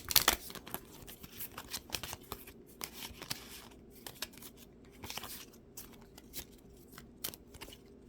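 Playing cards being shuffled during a tabletop game of Codex, a dense run of close, crisp riffling and snapping bursts that repeat irregularly, with no talking over them.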